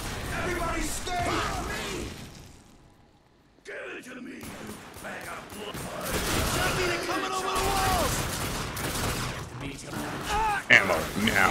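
Gunfire rattles through a video game battle against the Brotherhood, dense bursts and impacts filling most of the stretch with a brief near-silent gap early on, while a player talks over the action.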